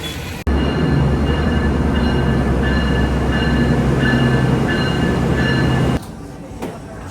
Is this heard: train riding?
yes